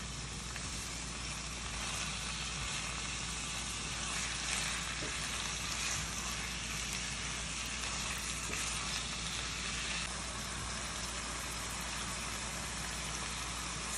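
Food fries in a pan with a steady, close, continuous sizzle that stays even throughout, with no talking.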